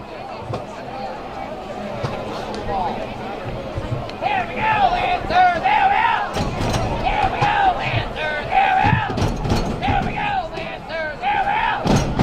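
Crowd at a high school boys soccer match between Norton Lancers and Sandwich Blue Knights, a steady roar of yelling and cheering voices that swells louder midway through and stays dense to the end, with a voice talking over it.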